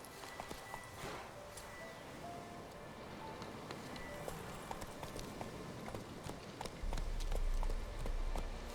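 Roach, the horse in The Witcher 3, gallops along in steady, quiet hoofbeats over a soft game-world ambience, with a louder low rumble swelling near the end.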